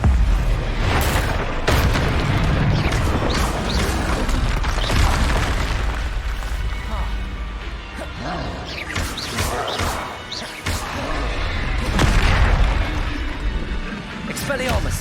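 Confringo fire-blast spells go off again and again in Hogwarts Legacy, heavy booms and crashing bursts layered over a dense, roaring battle din, with a voice talking throughout.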